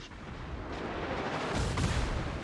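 Naval guns of 130mm calibre firing in World of Warships, a dense rumbling barrage of booms and blasts layered over one another, loud and continuous for a couple of seconds.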